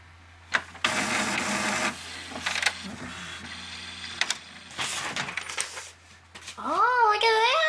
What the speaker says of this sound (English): Ooh, it's printing.